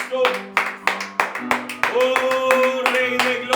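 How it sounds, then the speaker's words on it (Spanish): A congregation in a church claps together in bursts while sustained music plays underneath, the clapping loud and close. "Vamos a darle un fuerte aplauso a Cristo."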